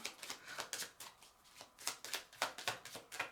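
A tarot card deck is shuffled repeatedly in quick rhythmic riffles, crisp and close, with short pauses between bursts.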